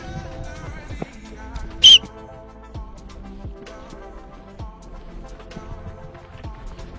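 A single short, sharp whistle rings out once amid quiet background clicks and taps, then silence returns.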